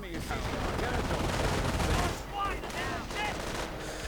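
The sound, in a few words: machine gun fire, .30 caliber and MG42, in a video game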